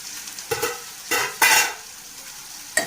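Ginger garlic paste sautéing in oil in a pan for a chicken liver curry, with a soft steady sizzle broken by several scraping stirs, close and alone.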